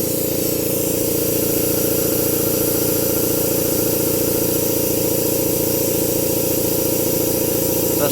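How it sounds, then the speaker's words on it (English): An air compressor runs steadily in a workshop during brake bleeding work, a loud continuous mechanical drone with a hissing edge that stays unchanged throughout. "That's my compressor, don't worry about it."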